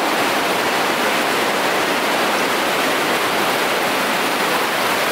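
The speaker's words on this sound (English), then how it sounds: "Source of the river Styx, apparently. It's just flowing out from this rock." Fast-flowing river water gushes out from a rock at the source of a cave river, a loud, steady, unbroken rush of white noise that holds constant with no other sounds.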